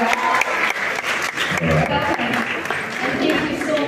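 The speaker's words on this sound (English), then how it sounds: "Give her a round of applause." An audience at a women in film awards show at the Kenya National Theatre applauds steadily, a dense wash of clapping that continues throughout with faint crowd murmur.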